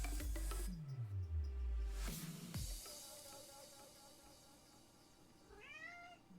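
A pet cat meows a few times at moderate distance, the calls rising and falling, over a continuous backdrop of background music.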